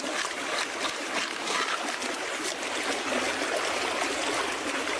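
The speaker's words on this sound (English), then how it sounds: "Remember, you want low water pressure in there, so if you can't find a spot, and the creek's going this way, you pan that way." Creek water runs and trickles steadily over rocks during gold panning, a close, continuous wash with small splashes and no talk.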